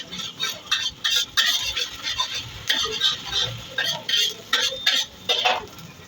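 Ginger garlic paste fries in a pan while a spoon stirs it in regular bursts, with close scraping strokes over a soft sizzle.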